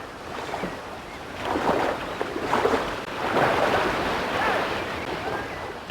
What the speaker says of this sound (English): The canoes must be emptied and guided through the surging rapids.